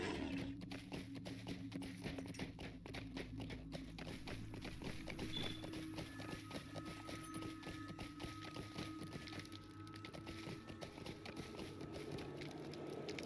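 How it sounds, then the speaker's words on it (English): Hooves of a Duskwatch steed in the video game Lord of the Rings Online clip-clop in a steady, even walking rhythm throughout, moderately close over a constant low ambient bed. "Get on our Duskwatch steed."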